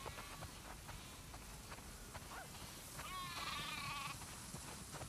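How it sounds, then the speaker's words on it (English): Sheep bleat in The Last of Us Part II, several drawn-out wavering calls from a large flock, one louder bleat standing out near the end over a steady low ambient bed of game sound. "Wow, that's a lot of sheep."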